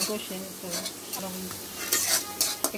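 Red chili, turmeric, coriander and cumin powders frying in hot oil, loud close sizzling with repeated spoon stirs and scrapes against the pan.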